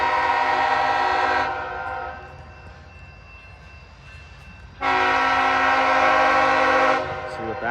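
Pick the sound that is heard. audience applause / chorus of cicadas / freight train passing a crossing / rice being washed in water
freight train passing a crossing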